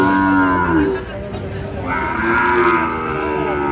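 Sahiwal bull calves moo loudly and close by at a cattle market in Narail, in two long, drawn-out calls, the second slightly higher, over a busy outdoor background.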